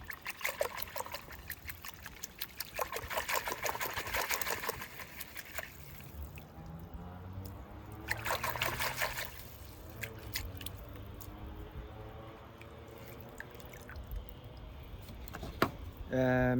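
Water trickles and splashes in short bursts while cottonwood roots are washed during repotting, with occasional rustling and handling noises and a voice speaking quietly in between.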